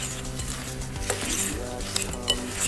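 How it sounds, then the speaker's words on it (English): A spoon works through crumble topping of vanilla and egg whites in a bowl, with scraping and occasional clinks against the bowl over low background music, close and moderately quiet. "Now you're going to mix that all up."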